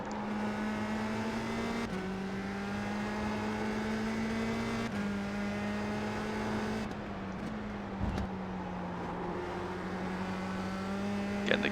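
A USF 2000 race car engine drones steadily in the iRacing simulator at Mid-Ohio, holding a high whine with several shifts and dips as the car works through corners.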